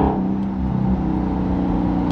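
A loud, rough engine of a Dodge Hellcat with the muffler and resonator cut off drones steadily with a throaty, unmuffled rumble for a couple of seconds, close by.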